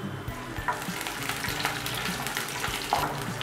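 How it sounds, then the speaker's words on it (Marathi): Chopped green chillies sautéing with garlic in a hot pan, a loud continuous sizzle broken by scraping stirs, close up with no talking. "आता आपण याच्यामध्ये बारीक केलेल्या मिरचीचे तुकडे घालूयात"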